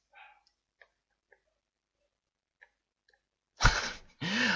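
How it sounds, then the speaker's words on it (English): A dog barks loudly twice near the end after a doorbell has rung indoors, the two sharp bursts following a quiet stretch of faint scattered clicks and small sounds. "someone rang the doorbell and the dog is going really mad"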